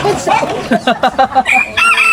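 A rooster crows near a flock of farm chickens kept for breeding, several choppy crowing calls in quick succession, fairly close and loud, with clucking and other fowl sounds around it.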